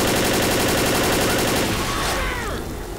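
Rapid automatic gunfire in Left 4 Dead during the Dead Air finale, a dense burst of shots that thins out toward the end with echoing reports.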